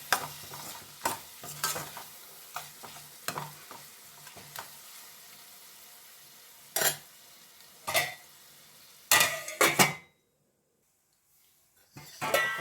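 Chana dal masala cooks in oil in a pan, with a spoon stirring and scraping in scattered clanks over a soft sizzle, then a lid goes on and the sound drops almost to silence.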